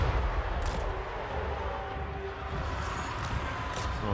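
Cannon and gunfire from a Total War Warhammer 3 battle, a dense continuous roar of shots and artillery booms at steady loudness with a few sharper cracks, with no clear speech.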